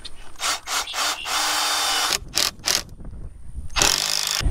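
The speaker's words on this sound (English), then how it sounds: "Let me drill through this bad boy." A power drill bores through the metal frame of a DIY off-grid solar array ground mount, loud and close, in several short high-pitched bursts and then one long sustained grind, with ratcheting stops in between.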